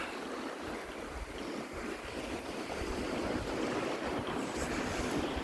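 Waves wash in on the shore at Leven Beach near high tide, a steady broadband roar of surf mixed with wind buffeting the microphone, with no voices.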